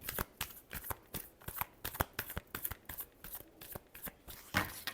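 Tarot cards being shuffled by hand in quick rhythmic riffling bursts, close and soft, with no talking.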